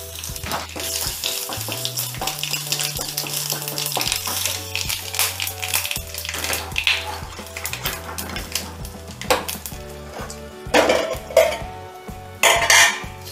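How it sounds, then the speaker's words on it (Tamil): A dried red chili and curry leaves temper in hot oil in a pan, crackling sizzle with clanks of a metal spoon against the pan, under a steady background hum. "ஒரே ஒரு வரமிளகா, கருவேப்பிலை இதை மட்டும் தாளித்து போட்டுக்கலாம்."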